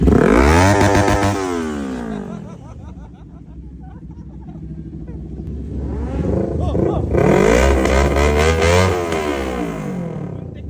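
Open-pipe motorcycles rev loudly at a roadside checkpoint, with harsh bursts at the start and again later in the stretch. A low engine rumble carries through the quieter middle while people talk nearby.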